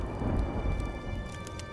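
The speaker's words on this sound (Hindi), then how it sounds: "आसमान में काले बादल छा जाते हैं और जोर जोर से बिजली कड़कने लगती है" A thunderstorm with a low rumble of thunder beneath a dense hiss of steady rain, heard briefly as a loud, enveloping wash with no voices.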